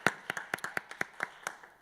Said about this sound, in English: how about a round of applause for Claiborne Benson and Black Historical Society.